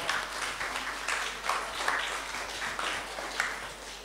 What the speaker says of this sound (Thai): ให้เราปรบมือนะคะกับพี่น้องของเรา